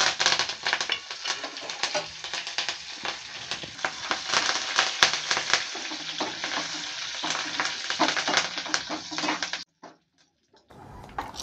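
Mustard seeds, cumin, dried chilli and curry leaves sizzle and crackle loudly in hot oil as a spice tempering, a dense popping hiss lasting about ten seconds before cutting off abruptly.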